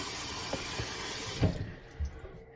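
Cold water runs from a tap into a pan of rinsed potatoes, a steady close hiss of pouring water with a few splashes and clunks toward the end, then tapering off.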